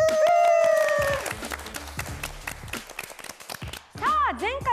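Studio audience clapping at the opening of a Japanese talk and discussion show, a burst of sharp, close claps following a sung or voiced intro, with voices and musical tones over the applause near the end.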